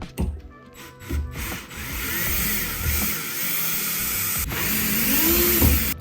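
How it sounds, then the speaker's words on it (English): A power drill whirs close up in short bursts and then a longer steady run, with scraping and clicking as doorknob screws back out of a wooden door. "what I have is a power drill"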